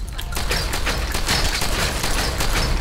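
Shotgun fire in the video game Fallout 4, a loud, dense barrage of blasts and mechanical clatter running continuously for about three seconds with no talking.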